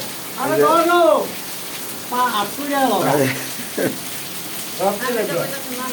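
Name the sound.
bhaji fritters frying in fresh oil at a street stall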